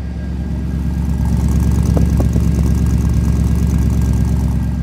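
A 1955 Chevrolet Bel Air fitted with Holley Sniper Stealth fuel injection idles steadily close by, a loud, even low rumble that holds throughout with no talk over it.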